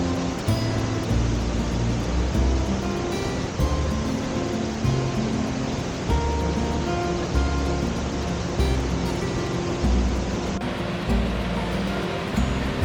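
Sol Duc Triple Falls in old-growth forest pours as a steady, loud, broadband roar of rushing water that stays constant and unbroken throughout, with no voices.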